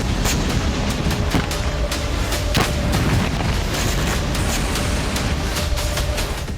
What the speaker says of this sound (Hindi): ड्रोन से जबरदस्त धमाका हुआ और रूस के हैंगर में तबाही मच गई